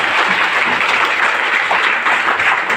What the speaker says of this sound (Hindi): जबरदस्त ताली बजाइएगा